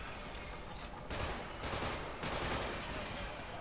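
Steady sci-fi gunfire in Killzone 2, a dense, continuous clatter of shots with a few louder swells, no talking over it.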